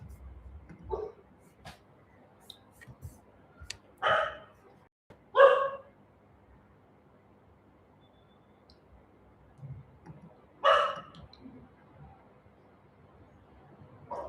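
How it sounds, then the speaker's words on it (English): A dog barks nearby in a quiet room, giving a few short separate barks spaced several seconds apart, moderately loud, with faint clicks and small background sounds between them. "It's a dog nearby."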